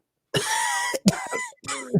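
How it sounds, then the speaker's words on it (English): Several harsh, raspy coughs come in quick succession, close and fairly loud, with brief gaps between them. "I've got a little bit of a cough"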